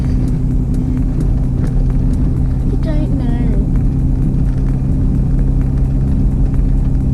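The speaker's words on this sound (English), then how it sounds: "I'm driving a car." A 4WD's engine droning steadily from inside the cabin while being driven, a constant low rumble beneath a brief spoken exchange.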